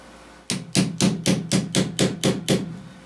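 A hammer taps nine times on a steel body panel of an MGB GT during restoration, the sharp metallic knocks coming close and loud at a steady, fairly quick rhythm.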